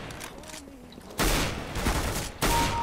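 A sniper rifle fires in CS:GO, giving two loud, close, broadband blasts about a second apart, each with a sustained rumbling tail, after a quieter stretch of game noise.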